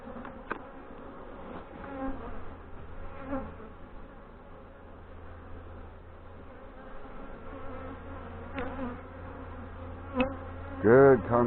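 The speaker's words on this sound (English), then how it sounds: "Good concentration of bees." A dense, steady hum of many honey bees buzzing up close at an open hive, rising and falling slightly, with occasional louder buzzes as individuals pass near.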